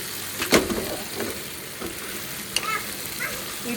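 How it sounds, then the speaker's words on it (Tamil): Tomatoes hitting a hot frying pan, a steady close sizzle with a sharp spitting burst near the start and scattered crackles after. "தக்காளி ஃபுல்லாக போட்டுடலாம்."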